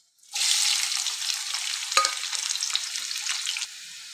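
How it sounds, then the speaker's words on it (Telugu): Onions and green chillies hit hot oil for a mutton masala curry, bursting into a loud, bright sizzle that crackles steadily for about three seconds, then drops to a quieter hiss. "ఇప్పుడు ఆయిల్ హీట్ ఎక్కింది, పచ్చిమిర్చి అండ్ ఆనియన్స్ యాడ్ చేసుకోవాలి."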